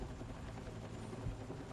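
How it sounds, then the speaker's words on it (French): A steady low rotor thrum of an enemy helicopter in the video game Battlefield 6, fairly loud and continuous, with a broad whooshing wash over it and no talking. "Oh ça c'est un hélicoptère ennemi."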